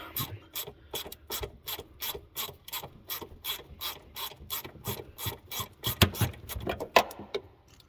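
A ratchet tool clicks rapidly and steadily while Torx 20 set screws are worked loose on a Yamaha Apex snowmobile, a close, even train of sharp pawl clicks with a few louder knocks near the end.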